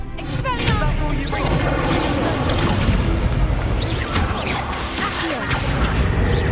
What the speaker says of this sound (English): Expelliarmus!